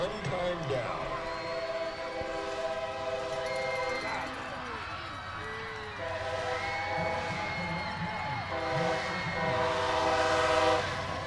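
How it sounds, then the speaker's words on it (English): A train passes near a high school football game in Jacksonville, its horn sounding in several long, loud blasts over rumbling rail noise while announcers talk over it. "We've had a lot of trains tonight"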